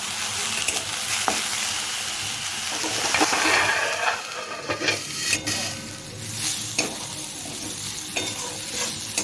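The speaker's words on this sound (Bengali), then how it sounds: "শাকটা আমার ভাজা হয়ে গেছে, এবার উঠিয়ে নেব।" Drumstick (sajne) greens frying in a pan, with a continuous loud sizzle and hiss broken by a few sharp scrapes and stirs of a utensil against the pan.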